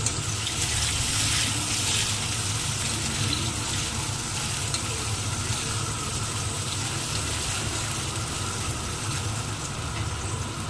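Onions fry in a pan until golden brown for a chicken recipe, a dense steady hiss of sizzling oil that runs unbroken at even loudness, with no talking.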